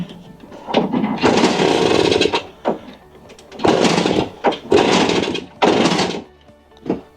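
A 1965 Suzuki K10 motorcycle with a burned-out seal being started on choke: several uneven bursts of sputtering engine noise that catch briefly and die, with short gaps between tries.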